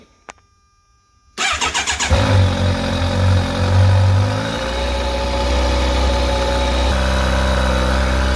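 A 2019 Kawasaki Versys 1000 SE motorcycle cranks after a quiet moment, catches with a loud roar and brief revs, then settles into a steady, close idle with no talking.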